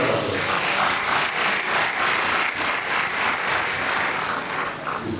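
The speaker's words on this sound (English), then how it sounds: "A round of applause." Sustained applause from an audience at a university inaugural lecture, a dense, steady wash of clapping that holds at an even level from start to finish with no speech.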